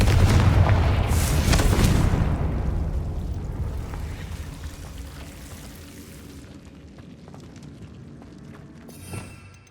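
A Confringo blasting spell explodes in the Hogwarts Legacy video game, a loud deep boom with rumbling debris that fades slowly into a long tail.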